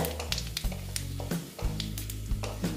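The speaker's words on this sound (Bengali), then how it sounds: "ভালো মতন ভেজে নিচ্ছি" Bay leaf and white cumin frying in oil, a steady close sizzle with a low hum beneath and a few soft stirring knocks.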